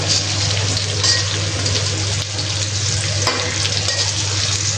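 Food frying in a pan in a home kitchen, a loud, continuous, even sizzle with a steady low hum underneath and no voices.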